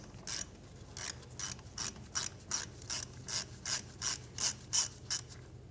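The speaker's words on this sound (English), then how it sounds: "we're going to remove our speed sensor here, 10mm socket" A ratchet with a 10mm socket loosens the speed sensor bolt on a 2011-2016 Hyundai Elantra rear wheel hub, giving a close series of about fourteen crisp, evenly spaced clicking strokes that grow slightly louder, with no talk.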